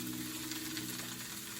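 Tuna steaks searing in sesame oil in a pan over medium-high heat, a steady close sizzle and hiss of frying that runs evenly throughout with no voices.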